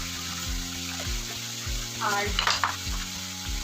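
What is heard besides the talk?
potatoes, eggplant and garlic frying in a pan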